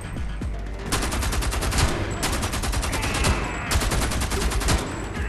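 Gunfire rattles from snipers and other weapons in the video game Homefront The Revolution, in loud rapid bursts of shots over dense battle noise, with several volleys across the stretch.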